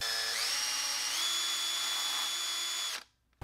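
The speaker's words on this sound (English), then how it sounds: "Drilling out the pilot holes for the joint connections right now." A power drill drilling pilot holes for joint connections in a handmade tadpole fishing lure whines steadily at high speed, its pitch rising slightly partway through, then cuts off abruptly near the end.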